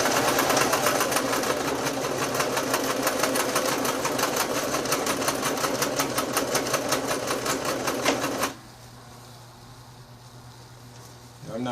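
An older sewing machine stitching trim onto rainbow stripe bikini briefs: a close, loud, steady motor whir with rapid needle clatter running for about eight seconds, then cutting off abruptly to low hum and quiet.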